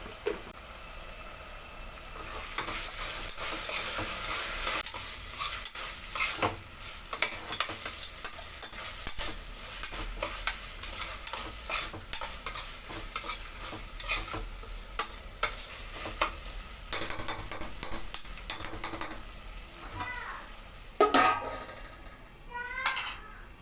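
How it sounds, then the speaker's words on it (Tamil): Onions fry and get stirred in a pan for mutton gravy after ginger garlic paste is added, giving a steady close sizzle broken by repeated scraping strokes of the spoon, with no talk. "வெங்காயம் வதங்கிடுச்சு."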